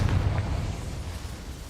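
A Confringo fire spell explodes in Hogwarts Legacy, a loud low boom at the start that rolls into a rumbling, slowly fading blast with no voices.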